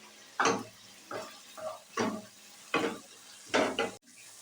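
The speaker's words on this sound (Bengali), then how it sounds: "নুন দিয়েও মশলাটা আমি ভালো করে কষতে থাকবো" Spice paste with salt and green chillies for a prawn malai curry is stirred and fried in a pan, giving about six short, separate scraping sizzles in an uneven rhythm with quiet gaps between them.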